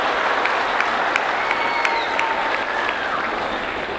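An audience at a speech claps in a steady, dense patter that fills the hall, with a few sharper individual claps standing out above the wash.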